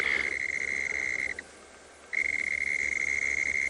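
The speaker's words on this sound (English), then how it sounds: "Also a frog that's making a bit of noise here" A frog croaks steadily at close range during an afternoon safari at a South African dam, a loud sustained trill that stops briefly for under a second before resuming, over a low outdoor rumble.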